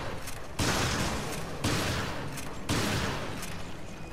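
Shotgun blasts in the Resident Evil Revelations video game, three loud broadband shots spaced about a second apart, each followed by a long booming decay, with no talk.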